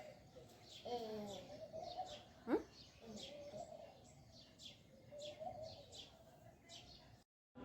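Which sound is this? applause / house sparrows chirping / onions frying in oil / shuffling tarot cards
house sparrows chirping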